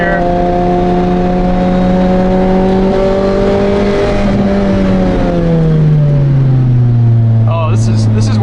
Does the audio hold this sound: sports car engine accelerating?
yes